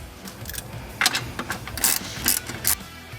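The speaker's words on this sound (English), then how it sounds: "And then tighten up the 4 bolts." A ratchet clicks in short bursts while tightening four mounting bolts during installation of a Navitas TAC 2 controller in an RXV golf cart, with close, sharp metallic ratcheting spaced by brief pauses.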